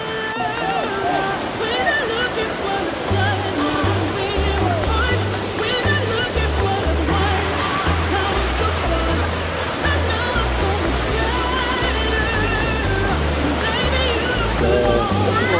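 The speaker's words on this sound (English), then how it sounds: "There's like 10 waterfalls here." A waterfall in Cotabato, Mindanao, Philippines roars in a continuous rushing wash, with people talking over the water.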